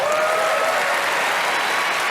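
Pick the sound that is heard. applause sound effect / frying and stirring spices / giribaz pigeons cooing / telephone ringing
applause sound effect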